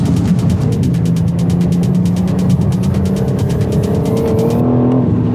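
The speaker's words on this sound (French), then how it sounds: "Et taper dans l'accélérateur." A car accelerating hard on the Nürburgring track, its loud engine note rising steadily in pitch under constant throttle, with a dense buzzing drone that drops off abruptly near the end.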